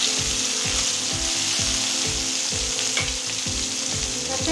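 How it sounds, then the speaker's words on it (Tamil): Tomato and onion sautéing in a pan for a drumstick masala, a constant close sizzle broken by regular scraping strokes of a spatula, with no talking. "தக்காளி நல்லா வதங்கிடுச்சு."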